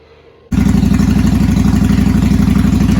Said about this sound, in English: I went ahead and fired it up, let it run for just a few minutes